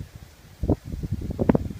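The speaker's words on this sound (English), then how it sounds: "very windy here" Low rumbling wind buffeting the microphone in uneven gusts, with light rustling, swelling louder toward the end.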